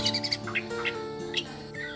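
Murai batu (white-rumped shama), an F-series crossbred bird, singing in short bright chirping phrases close by, over a steady humming background.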